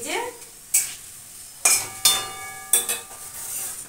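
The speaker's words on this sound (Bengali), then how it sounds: "মিষ্টি আলু ভেজে দিচ্ছি।" Sweet potato pieces sizzle in a frying pan while a utensil stirs them, giving four or five loud, sharp scraping strokes over a quieter, continuous close-up hiss of frying, with no voices.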